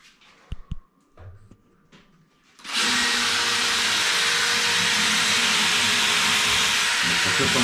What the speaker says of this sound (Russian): Сверлим.